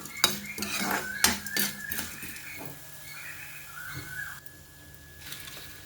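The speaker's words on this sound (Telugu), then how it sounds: "పప్పులన్నీ సగం వేగాక ధనియాలు, జీలకర్ర, మెంతులు వేయాలండి" A metal spoon clinks and scrapes against a pan as coriander, cumin and fenugreek seeds roast with lentils, with a few sharp taps early on, then softer stirring and faint rattling nearby.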